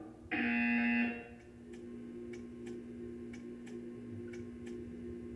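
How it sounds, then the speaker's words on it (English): A loud electronic buzzer from a test chamber in the Portal 2 video game blares once for about a second, followed by a quiet hum with faint periodic ticks. "When you hear the buzzer, stare at the art."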